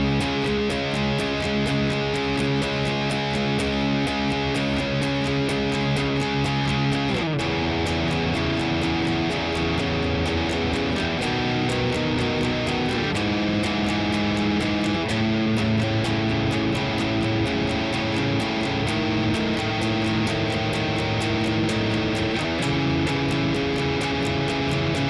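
Distorted electric guitar playing a verse at a slow practice tempo, sustained chords with steady rhythmic changes, loud and alone throughout.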